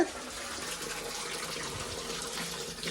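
Steady rush of water pouring from an open tap left running, continuous and fairly close, with no voices.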